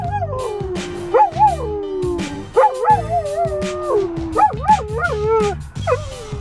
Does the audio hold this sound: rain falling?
no